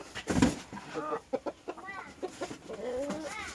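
A hen clucks near eggs on a farm in a series of short, close clucks and rising squawks, fairly loud against faint background noise.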